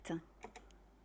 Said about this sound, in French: Et ici, vous allez taper Site Kit.